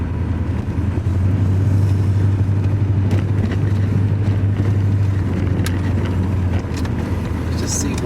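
A Porsche 928 engine drones steadily from inside the cabin on a bumpy road, holding a low hum as the automatic changes down into first, with a voice talking over it.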